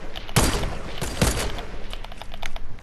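Gunfire rings out in a Fortnite match: a sharp burst of shots, a second crack about a second later, then a ragged run of fainter rapid reports, all fairly loud and with no talk over them.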